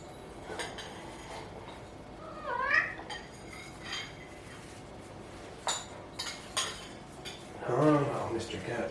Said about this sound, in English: Oh, Mr. Cat